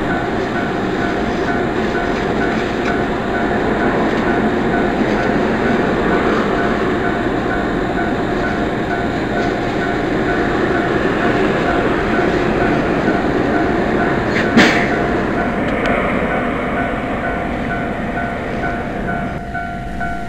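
JR Kabe Line train bound for Hiroshima in a train simulation game, departing: a loud, continuous rolling roar of wheels on rails with steady motor hum and a brief sharp click near the end, no talk.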